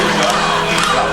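A crowd arriving at Barron's club, a loud, steady roar of many voices cheering and yelling together with no pauses over the brief moment.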